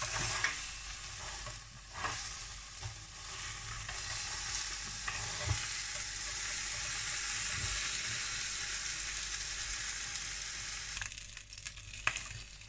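Lobster halves sizzle and crackle steadily on a hot grill, with a loud continuous frying hiss, occasional clatters and scraping, and no talking.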